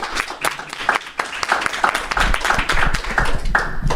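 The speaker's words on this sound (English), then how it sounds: "Let me get some applause right into the microphone" Scattered audience applause at a recovery speaker meeting, clapping close to the microphone with uneven bursts and uneven rhythm, a few sharp individual claps standing out.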